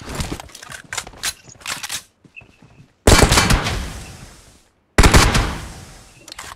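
Bursts of automatic gunfire in PUBG, rapid rattling volleys loud and close, several separate strings of shots with brief gaps between them.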